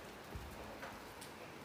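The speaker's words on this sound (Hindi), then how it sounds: "मौसम देखो आज पूरा बारिश हो रही है।" Steady rain falls outdoors in soft, constant patter, faint and even throughout with no voices.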